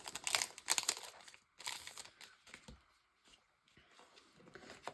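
Crinkly plastic sticker packets handled close up: loud crackling rustles in the first two seconds, then softer intermittent crinkles and faint taps.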